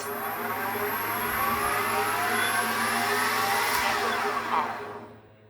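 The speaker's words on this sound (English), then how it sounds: "And you can actually hear the servos working." A Goblin 700 RC helicopter spools at full throttle with a steady, close, high whine and faint servo whirring, then fades out near the end. No one speaks.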